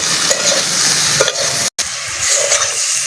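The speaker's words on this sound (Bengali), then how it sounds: "হলুদ গুঁড়ো দিয়ে দিচ্ছি স্বাদ মতো নুন দিয়ে দিচ্ছি ভালো করে নেড়ে ছেড়ে ভেজে নেব" Turmeric and salt fry in a pan as a spoon stirs them, a close sizzle with scraping strokes and a brief silent gap midway.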